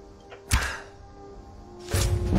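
Arrows shot with a bow in the game Skyrim strike an enemy, two dull thunking impacts about a second and a half apart over a quiet background.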